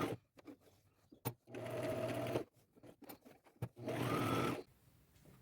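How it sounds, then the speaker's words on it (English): A sewing machine stitches old crochet doilies into a long lace boho vest, two close steady runs of rapid mechanical whirring, each about a second long, separated by quiet handling clicks and rustles. "I will just slide this under there and continue to sew."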